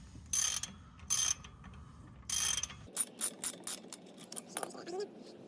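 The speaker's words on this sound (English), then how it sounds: "Currently I'm just undoing the caliper bolts so I can get room to the strut mount bolts" A hand ratchet loosens the brake caliper bolts on a VT–VZ Holden Commodore, first in three long bursts of rapid clicking, then in a string of shorter quick ratcheting strokes, close and loud.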